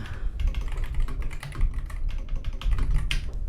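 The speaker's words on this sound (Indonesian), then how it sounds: "Jadi kalau kamu ngetik sesuatu di sini di C2" Rapid typing on a computer keyboard while entering data into a spreadsheet cell, a close, dense run of clicky keystrokes with brief pauses, loud and unaccompanied by speech.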